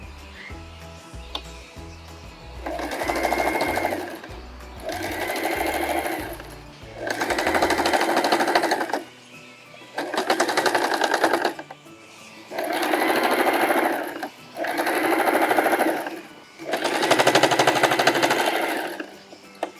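A sewing machine running a straight stitch, in six or seven loud bursts of rapid whirring separated by short pauses, with some low thumps and handling sounds at the start.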